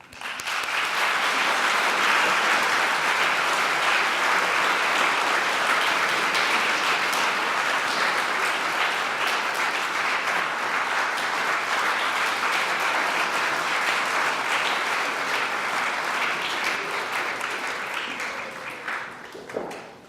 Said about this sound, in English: I ask you all to join me in applauding them